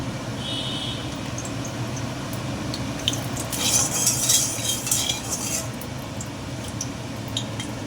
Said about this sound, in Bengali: আবার আমি একটু তেল দিয়ে দেবো। পনিরটা ভেজে নেব।